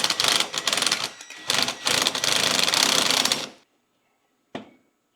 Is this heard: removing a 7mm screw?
yes